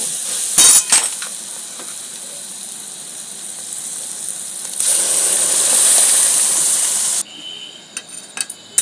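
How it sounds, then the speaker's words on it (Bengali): Egg tadka poured into oil-rich spiced masala bursts into a loud hiss and sizzle, with a clink of a utensil at the start and frying that settles, then a cut to quieter stirring and scraping. "এইবারে আমি তরকাটা এর মধ্যে ঢেলে দেবো"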